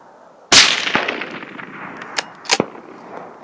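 A bolt-action rifle fitted with a muzzle brake fires a single loud, sharp shot of 175 grain Federal ammunition, followed by a decaying outdoor echo and a few faint metallic clicks afterward.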